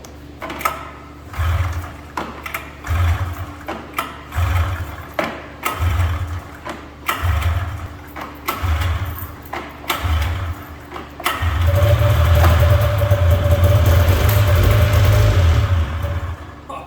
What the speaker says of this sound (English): That was, I think, 19 pulls to get fuel in the carbs.